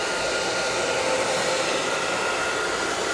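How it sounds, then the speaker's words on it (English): A hair dryer blows steadily up close, a constant loud whooshing hiss with no pauses. "I might hit it with a hairdryer real quick"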